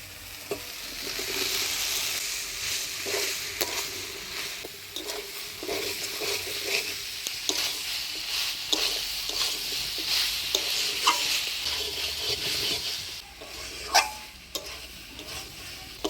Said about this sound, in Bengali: মশলা দিয়ে সোয়াবিন আর আলুটা দেখেন ভালোভাবে কষিয়ে নিলাম